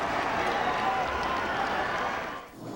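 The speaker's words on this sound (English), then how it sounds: "He gets an appreciative ovation from the Jacobs Field crowd as he walks off." Ballpark crowd at Jacobs Field in Cleveland giving a sustained, loud ovation during a 1997 World Series game as a pitcher walks off, a dense roar of many voices that holds steady before easing off near the end.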